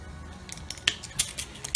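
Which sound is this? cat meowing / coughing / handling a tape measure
handling a tape measure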